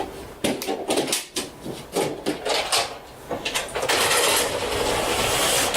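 An Elgato collapsible green screen is opened up, a run of quick rattling, scraping mechanical clacks in uneven bursts, giving way to a steady hissing slide as it extends, all close and loud.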